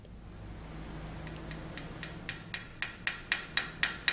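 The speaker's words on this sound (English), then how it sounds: "Chip your slag." A hammer chips slag off a fresh weld joining a broken stud to a nut, made with a stud-pull electrode. About ten sharp metallic taps come close together in a quickening rhythm after a quiet start, with no talk.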